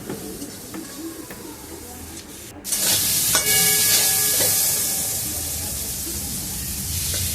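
Spices and green chilies frying in a pan, giving a soft background crackle that bursts into a louder, steady hissing sizzle partway through and continues to the end.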